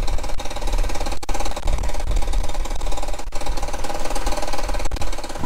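Outboard engine on a cheap, old pontoon boat runs steadily close by, a loud rough idle with a fast rhythmic knocking chug and a few brief dips, no voices.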